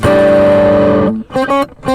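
A Donner HUSH I Pro acoustic/electric travel guitar played through a distortion effect preset: one loud, buzzy sustained chord rings for about a second, then three short, choppy distorted strums follow.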